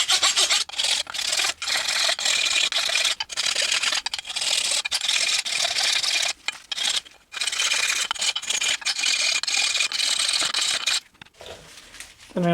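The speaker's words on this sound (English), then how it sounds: "I like to use a file and really get in there and make sure the rust is really removed so that the fitment's really good" Metal file rasping rust off a rear brake part on a 2018 Honda Accord, in loud, close back-and-forth strokes with brief pauses between them.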